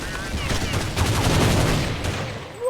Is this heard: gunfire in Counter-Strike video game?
yes